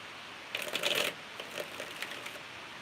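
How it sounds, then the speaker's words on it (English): Tarot cards are shuffled close up in a quick flurry of crisp riffling clicks, then a few lighter, scattered taps as the deck settles, with no one talking. "One more shuffle."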